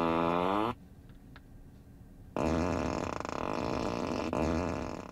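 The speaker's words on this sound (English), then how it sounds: "Fart mode, classic." Tesla Model 3 fart mode plays a loud synthetic fart sound effect through the car speakers, a short tonal blast followed by a pause and then a longer, sustained raspy flatulent sound.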